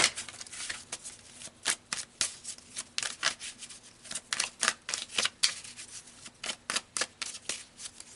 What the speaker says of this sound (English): let's pull some clarifying cards here